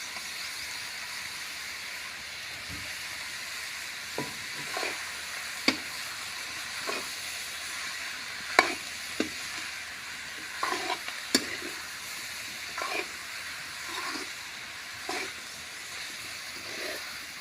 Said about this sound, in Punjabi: ਸਬਜ਼ੀ ਆਪਣੀ ਰਿੱਝ ਰਹੀ ਹੈ ਜੀ ਕੜਛੀ ਫੇਰੋ